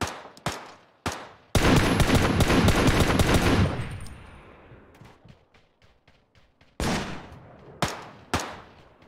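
Video game gunfire: a few single sharp shots, then a loud sustained automatic burst lasting a couple of seconds that trails into echo, followed by scattered isolated shots, with no talking.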